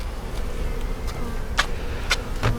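A honeybee swarm during a hive split hums as a close, continuous buzz, with a few brief sharper passes as individual bees fly near.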